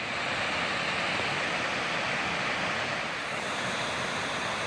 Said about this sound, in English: that's a beautiful waterfall